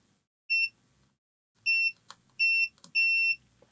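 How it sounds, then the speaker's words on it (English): A multimeter beeps on continuity tests while probing a Nintendo Switch board, giving four short, clean high tones, the first alone and three more in quick succession, with faint clicks and probe scrapes between them. "Beep on one side, shouldn't beep on this side, and it doesn't."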